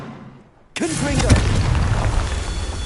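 Near silence breaks into a sudden Confringo blast in Hogwarts Legacy, a sharp loud explosion that keeps rolling as a thick, roaring rumble to the end.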